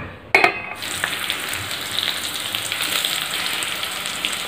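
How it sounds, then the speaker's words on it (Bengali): Cauliflower florets frying in oil for fried rice give off a steady, close sizzle that carries on throughout, opening with a brief sharp burst of crackle as they go in. "এদিকে হচ্ছে সবজির মধ্যে কলিফ্লাওয়ার ভাজা হচ্ছে, মানে ফুলকপি ভাজা হচ্ছে"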